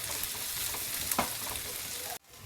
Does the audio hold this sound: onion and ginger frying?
yes